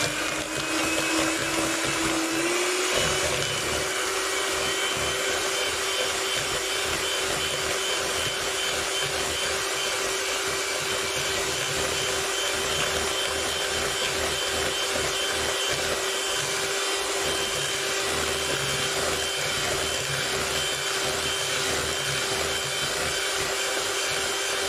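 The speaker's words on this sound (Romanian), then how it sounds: "Așa că eu le încorporez cu paletele înainte de a porni mixerul." Electric hand mixer beating cake batter of flour, sugar and cocoa for a plum cake, a loud steady motor whir running without a break for the whole stretch, close by with no talk.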